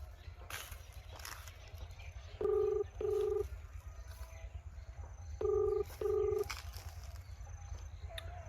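A mobile phone call ringing out during a rural picnic, two paired ringback tones spaced a few seconds apart over low outdoor background noise.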